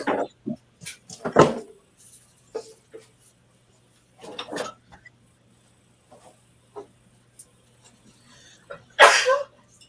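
A sharp sneeze bursts out near the end, after a few scattered kitchen clatters and soft breathy noises in a mostly quiet kitchen during meal prep with ground beef.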